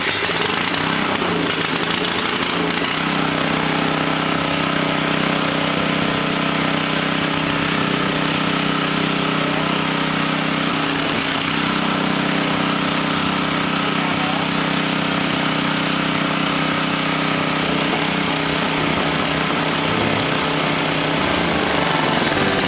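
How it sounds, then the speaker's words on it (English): An old Coleman generator's engine runs steadily close by, a loud continuous mechanical drone with a firm low hum and rattling overtones, holding constant with no pauses for the whole stretch. "the motor runs good, but we are not generating power that I can tell"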